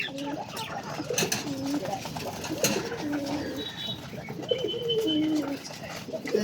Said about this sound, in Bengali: দেখো আমাদের একটা গিরিবাস কবুতর কেমন লাগছে